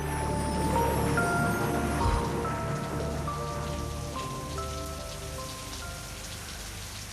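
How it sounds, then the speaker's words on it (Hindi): Heavy rain pours down steadily on a surface outside, a dense continuous hiss with spattering drops throughout, with a sustained musical tone faintly underneath. "माय गॉड, ये बरसात।"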